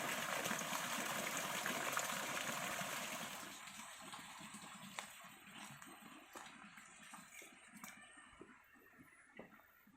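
Clear river water flowing in a village rich in springs, a steady rushing wash that is louder at first and then softens, with scattered small splashes and clicks.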